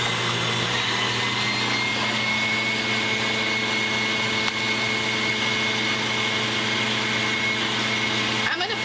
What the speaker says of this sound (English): we're going to turn up our egg whites and start beating those on high